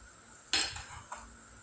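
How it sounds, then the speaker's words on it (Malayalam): A spoon scrapes and clinks through spices in a cooking pan for an easy vegetable curry, one sharp metallic stroke followed by a softer second scrape, close and alone against a faint background hum. "എന്നിട്ട് നമുക്കിതെല്ലാം കൂടി ഇളക്കി കൊടുക്കാം കേട്ടോ."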